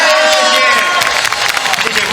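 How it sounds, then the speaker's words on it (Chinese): Crowd cheering and applauding at a Taiwanese singer's concert in Taipei Arena, a loud dense roar of the audience with an announcer's voice speaking over it. "我们再次以最热烈掌声"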